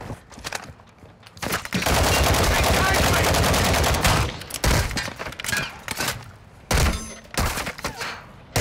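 Heavy gunfire from Call of Duty DMZ comes in loud, close bursts, with a long sustained volley early on followed by shorter rattling bursts and single sharp shots.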